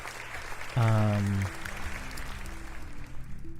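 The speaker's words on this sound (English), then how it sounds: "Thank you for the applause" Applause played as a livestream alert, opening with a brief loud tonal chime and then settling into a soft, even patter that runs to the end without talk.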